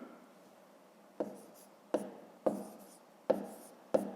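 Numbers being written by hand on paper during a math division exercise, five or six short scratchy pen strokes in bursts about half a second apart, close and fairly quiet with no talk.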